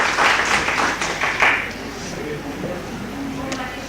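An audience at a literary festival session claps to welcome a writer, a short burst of applause that fades out by midway while a speaker's voice carries on over it.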